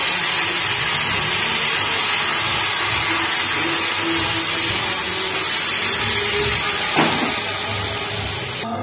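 Liquid is poured into hot mustard oil tempered with black cumin, white cumin and dried chilli, a loud continuous hissing sizzle that holds steady, with a brief burst near the end and no talk.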